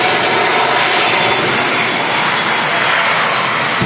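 Jet airliner engines roar at Manchester Airport, producing a loud, steady, close broadband rumble that holds without a break for the whole stretch, with no talk over it.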